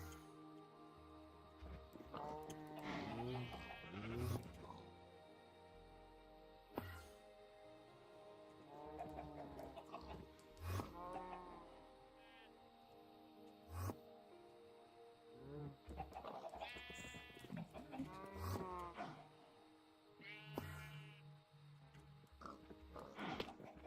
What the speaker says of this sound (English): And finally, the last sheep.